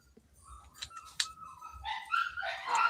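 Dogs barking and yipping excitedly, several quick sharp barks followed by rising whimpers and overlapping yelps that grow louder toward the end.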